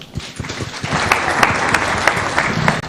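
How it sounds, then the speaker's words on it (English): A crowd claps steadily at a political party rally in Nakuru, Kenya, a warm wash of applause with a few sharper claps standing out, building slightly then holding. "Good applause for her."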